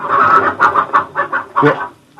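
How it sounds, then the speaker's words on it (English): A chicken clucks in a rapid run of short, loud, close bursts for about two seconds as a sound effect in a radio drama. "Hey, that ain't no hound. That's the chicken."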